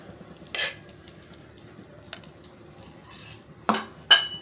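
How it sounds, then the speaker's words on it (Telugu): A metal spoon clinks against a pressure cooker on a stove while ghee goes in for rajma biryani, with a few scattered taps and two sharper scrapes near the end, fairly quiet and without talk. "కుక్కర్ పెట్టుకున్న తర్వాత 1 స్పూన్ నేను నెయ్యి వేస్తున్నాను."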